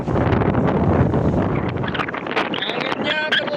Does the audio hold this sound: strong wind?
yes